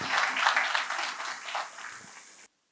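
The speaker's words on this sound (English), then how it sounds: "Can we have a huge round of applause, everybody, for app sealing?" Audience at a startup networking event applauding, a dense wash of many hands clapping that gradually thins, then cuts off abruptly into silence.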